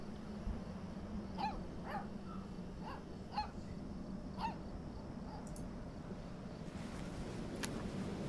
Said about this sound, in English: Hey, let's play fetch with the pup.